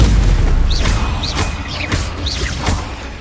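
Confringo blasting spell explosions in Hogwarts Legacy, a loud rumbling barrage of booms with repeated whooshing bursts in quick succession over heavy low-end noise.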